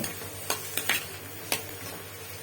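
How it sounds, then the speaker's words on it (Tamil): Quiet sizzling of tomatoes sautéing in a pan, with a few light clinks and stirring taps on top of a steady background hiss. "இப்போ வெட்டி வச்ச தக்காளியை போட்டு நல்லா வதக்கி எடுத்து வச்சுக்கோங்க"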